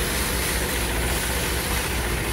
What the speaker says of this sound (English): Bale wrappers are running off two diesel engines, so you've got the tractor on the front.